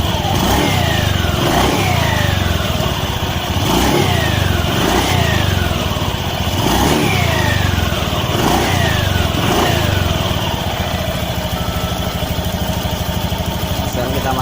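Honda Beat FI scooter with a modified roller CVT, its engine revved repeatedly with the throttle, rising and falling in a steady series of about six sweeps over a constant loud idle.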